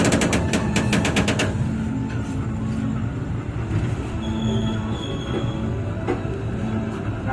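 Brantas passenger train running on rails, a rapid metallic clatter at first that settles into a steady rumbling roll with faint squeals, close and continuous.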